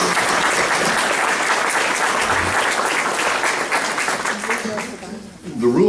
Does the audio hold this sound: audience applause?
yes